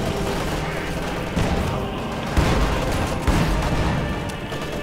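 Machine gun fire from a World War II real-time strategy battle in Company of Heroes 2, dense continuous crackling bursts mixed with booms and explosions at steady loud level, with no clear voice over it.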